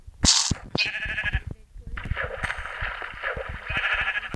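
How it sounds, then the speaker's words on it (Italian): Sheep in the Minecraft video game bleat several times in quick succession, close and loud, with brief clicks and game effects between calls. "Oh, un'altra pecora."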